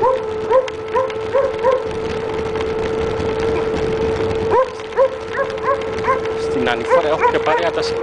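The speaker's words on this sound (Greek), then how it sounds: "Και τα σκυλιά του γείτονα παρέα" The neighbor's dogs bark repeatedly outdoors on a cold snowy day, several yips and woofs in bursts, some close and some farther off, over a steady engine-like hum with someone talking.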